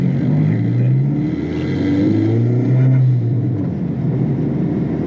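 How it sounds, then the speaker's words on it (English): A Mk4 Jetta's turbocharged engine pulls under acceleration from inside the car, a steady loud droning rumble that rises and swells in pitch, with no talking. "there's just something about that turbo"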